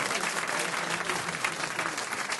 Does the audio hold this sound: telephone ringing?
no